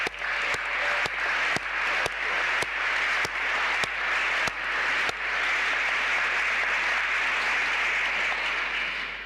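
An audience at a college graduation ceremony applauds in a broad, sustained wash of clapping that holds steady for several seconds, with a few sharp separate claps near the start.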